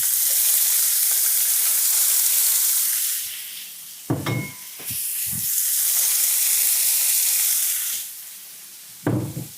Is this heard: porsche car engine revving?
no